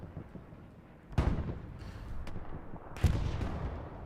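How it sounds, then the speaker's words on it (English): Artillery barrage in the WWII shooter Hell Let Loose during a competitive match: two heavy booming impacts about two seconds apart over a rumbling battlefield background, no talk. "Now the artillery bombing run, that is Allies, Axis bombing run."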